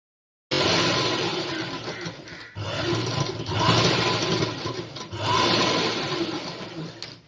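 An electric sewing machine stitching a folded one-inch hem on trousers being altered, a loud close steady whirring hum running in three long bursts with brief pauses between.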